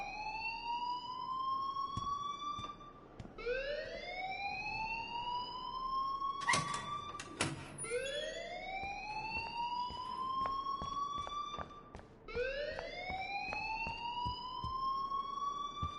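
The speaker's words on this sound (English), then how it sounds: "please turn off that alarm since that's your job" Alarm blaring in the video game Life is Strange, a loud electronic siren that repeatedly sweeps upward in pitch, about four cycles with brief sharp clicks between them, steady and unaccompanied by talk.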